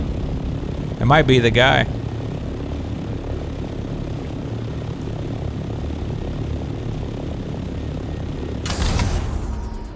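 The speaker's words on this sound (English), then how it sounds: "There goes somebody driving by right there." A vehicle driving by in Dune Awakening: a steady engine drone runs throughout, with a louder whirring pass near the start and again at the end. Someone talks briefly.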